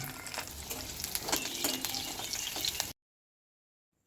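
Nigella seeds, garlic, green chilies and dried red chilies fry in hot mustard oil in a kadai, giving a close, crackling sizzle with stirring clatter for about three seconds before abrupt silence.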